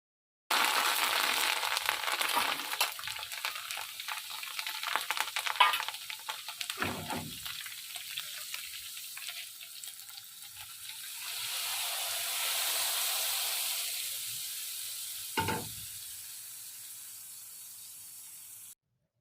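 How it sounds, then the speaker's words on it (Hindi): Round red chilies and cumin crackle and sizzle loudly in oil for several seconds, with a couple of clinks, then settle into a softer, steady hiss. "मैंने तड़का लगाने के लिए ये गोल वाली लाल मिर्चें ऑयल में डाल दी हैं और साथ ही मैंने डाल दिया ज़ीरा"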